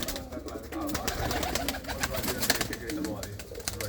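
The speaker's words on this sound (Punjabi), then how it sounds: "ਆਹ ਕਾਲੇ ਚੀਨੇ ਦੇਖੋ ਬੜੇ ਬੜੇ ਵਧੀਆ ਤਗੜੇ ਕਬੂਤਰ ਨੇ" Black Cheena pigeons, big sturdy birds kept in a loft, coo repeatedly up close in low throaty calls amid fluttering and scratching, while someone speaks over them.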